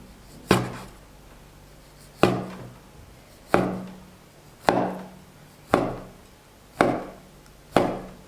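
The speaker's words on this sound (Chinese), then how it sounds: "然后切成2厘米左右的段儿" A knife cutting rolled dough into pieces about 2 cm long on a wooden board, seven evenly spaced sharp chops, close and clear, with no voices.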